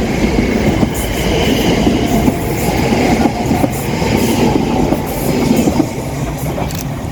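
An Elizabeth line train running from Shenfield to Heathrow Terminal 5 passes on the Great Eastern Main Line, making a loud, steady rumble with wheel clatter that holds for several seconds and eases slightly at the end.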